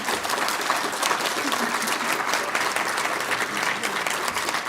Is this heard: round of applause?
yes